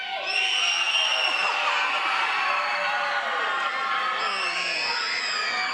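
A large crowd at a sports finals event roars continuously, with overlapping loud shouts, whoops and cheering voices filling the space throughout.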